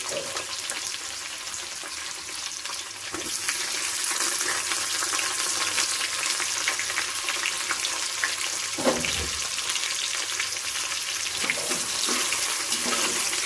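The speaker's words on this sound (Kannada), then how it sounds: "ಹಸಿ ಶುಂಠಿ, ಬೆಳ್ಳುಳ್ಳಿ ಮತ್ತು ಈರುಳ್ಳಿನ ಹಾಕ್ಕೊಂಡ್ಮೇಲೆ ಒಂದು ಸ್ವಲ್ಪ ಅದರದ್ದು ಹಸಿ ಸ್ಮೆಲ್ ಹೋಗೋವರೆಗೂ ಫ್ರೈ ಮಾಡ್ಕೊಳ್ಳಿ" Ginger, garlic and onion frying in a pan, a continuous hiss of sizzling oil that grows louder partway through, with a few soft stirring knocks and no speech.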